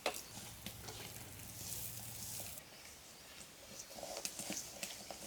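Lentils fry in mustard oil in a pan for khichuri, a soft, faint sizzle with a low hum beneath and a few light scrapes toward the end.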